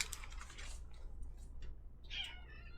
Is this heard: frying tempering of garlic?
no